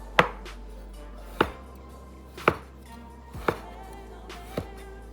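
A sharp kitchen knife chops food on a cutting board in five crisp, evenly spaced strikes, close and clear, with no talking over them.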